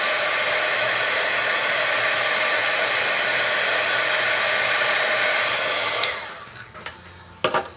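A heat tool blows with a steady, loud rushing hiss while heat-setting ink on kraft glassine, then cuts off, leaving a few small clicks and handling noises.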